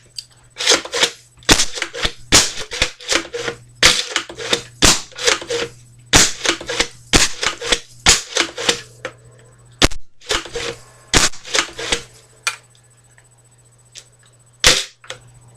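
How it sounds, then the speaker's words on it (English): Homemade PVC pumpsnap toy gun fired repeatedly at a plastic bag on a bed indoors: a long series of sharp, loud snapping cracks in irregular bursts, with brief gaps, over a steady low hum. "the reason it was making so much noise is because I was shooting a plastic bag over on my bed"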